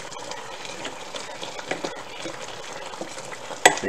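Cauliflower couscous seasoned with pepper is stirred in a pan, with a steady scraping stir over a soft continuous sizzle and a brief sharp clink near the end.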